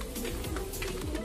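A pigeon coos softly in a loft, a low murmuring call that repeats through a steady, noisy background, fairly close but not loud.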